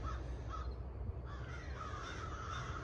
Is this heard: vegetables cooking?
no